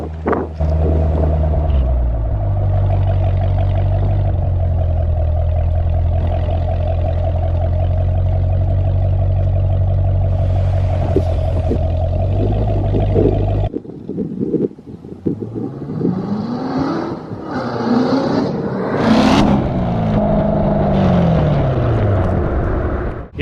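A Corvette C7 Z06 exhaust drones loudly at a steady pitch, then the car passes by in several rising and falling sweeps, heard from a camera mounted on the back of the car.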